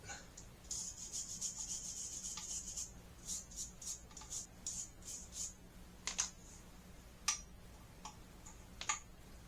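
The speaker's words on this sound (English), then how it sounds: "I'm going to use a little wire brush here real quick" A small wire brush scrubs heavy corrosion off the nuts on a toilet: quiet, scratchy rasping strokes come in quick irregular bursts, with a few sharper scrapes toward the end.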